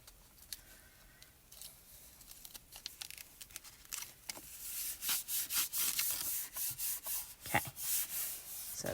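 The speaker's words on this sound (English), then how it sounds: "I'm just going to burnish that adhesive down." Adhesive being burnished down onto cardstock with firm back-and-forth rubbing strokes, soft and sparse at first, then louder, faster and rhythmic in the second half.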